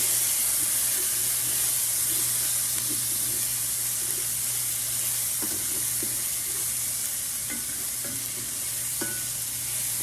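Garlic stirred in a pan with tomato bouillon while cooking Spanish rice, a continuous close sizzle and hiss with faint scraping ticks from the utensil.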